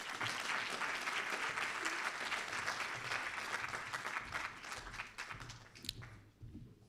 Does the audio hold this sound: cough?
no